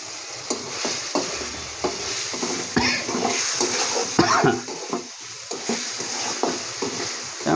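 Spices for taki fish bhuna fry on a stove and are stirred without pause, a constant sizzle laced with repeated scraping and clinking of a spoon against the pan, close up and without speech.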